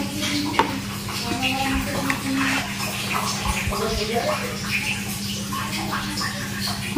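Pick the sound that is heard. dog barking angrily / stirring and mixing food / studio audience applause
stirring and mixing food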